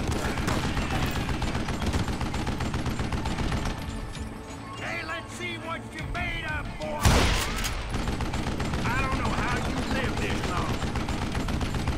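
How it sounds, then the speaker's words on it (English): A Gatling gun fires in Call of Juarez: Gunslinger, rapid sustained bursts of gunfire rattling throughout with a louder blast midway, while someone talks in between. "He can actually turn the Gatling gun."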